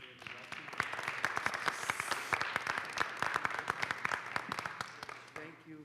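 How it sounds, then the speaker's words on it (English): An audience applauds Pastor Rick, clapping steadily and moderately loud in a hall for about six seconds, the claps dense and overlapping before tapering off at the end. "Could we also have a round of applause for Pastor Rick"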